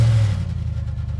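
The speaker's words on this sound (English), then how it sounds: "Drivers, start your engines!" Race car engines fire up at the start of a stop-motion NASCAR race, a brief loud low rumble that settles into a throbbing idle-like drone, with no voices over it.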